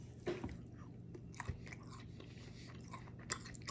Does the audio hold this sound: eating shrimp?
yes